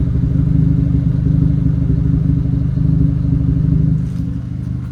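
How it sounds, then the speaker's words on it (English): A motorcycle engine idles close and loud with a steady, rapid low thumping pulse and a slightly uneven, rough idle after new spark plugs and exhaust repair, easing down somewhat near the end. "It sounds like it's got a little bit of a weird idle still."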